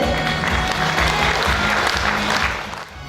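At an awards ceremony for agricultural and processing-industry workers, an audience gives a warm round of applause over quiet background music, the clapping easing off toward the end.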